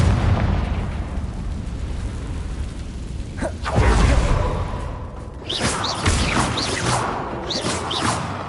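The Confringo blasting spell in Hogwarts Legacy hits with a heavy booming explosion, then a whoosh and crackling burst tails off into rumbling, layered over dense game ambience.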